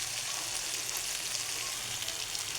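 Eggs added to potatoes already frying in a pan give a steady, soft sizzle that hisses evenly throughout, close by with no talking.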